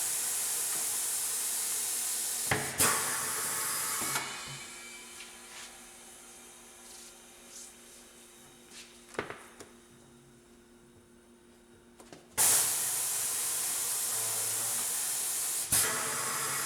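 A bead breaker spade unseats the first bead of a car tyre, positioned opposite the valve: loud bursts of hissing air at the start and again near the end, with quieter creaks and clunks in between, close and with no voices.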